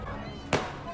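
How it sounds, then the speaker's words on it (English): A single sharp firework bang at a street protest, a brief crack rising over a steady murmur of background noise. "Someone fired a firework."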